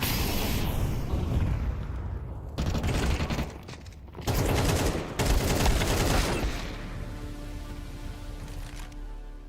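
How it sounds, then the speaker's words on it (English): Grenade explosion and heavy gunfire in a video game, loud dense bursts of shots and booms filling most of the clip, then easing into a rumbling tail. "I'm throwing a grenade!"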